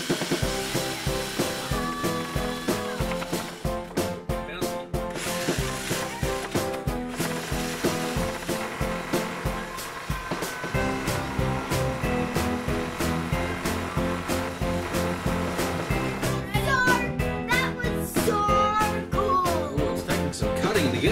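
A reciprocating saw cuts through the middle of a DigiBird / Little Live Pets toy bird, giving a loud, continuous buzzing grind with rattling mechanical chatter that runs steadily for about twenty seconds.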